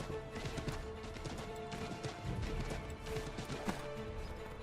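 Horse hooves in the video game Assassin's Creed 3, a dense, continuous clatter of galloping steps, close and loud throughout.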